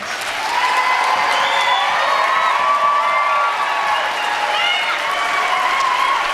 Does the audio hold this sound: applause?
yes